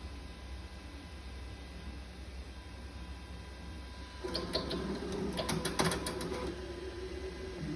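A 3D printer loads pink filament after heating its nozzle to 220 degrees: a faint steady hum, then quiet motor whirring and rapid clicking from about halfway through.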